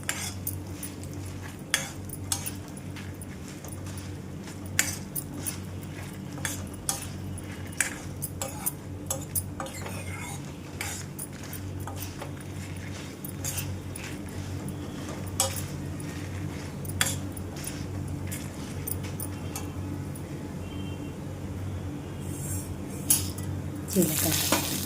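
Toor dal roasts in a pan over a low flame, with soft sizzling over a low steady hum and frequent light clicks and scrapes from stirring.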